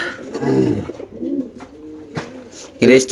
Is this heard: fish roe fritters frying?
no